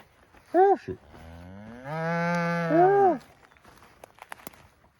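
Steers and cows graze on pasture. One gives a short, sharp call, then a long, full moo follows close by, with faint rustling and footsteps around the calls.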